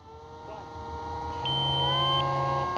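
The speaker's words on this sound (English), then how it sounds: "That was my timer." A timer beeps during an RC flying session with an E-flite Draco 2.0m plane, a sustained electronic tone over faint engine or motor hum and background noise, fairly quiet and steady.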